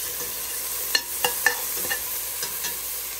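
Chopped garlic and onion fry in olive oil with a soft, steady hiss, while a handful of light utensil taps and scrapes sound at irregular moments, close by and fairly quiet.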